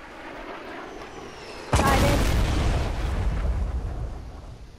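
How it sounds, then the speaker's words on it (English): A rocket blast in a video game hits with a sudden loud boom, followed by a rumbling, roaring decay that fades over a few seconds. "we got a rocket after us"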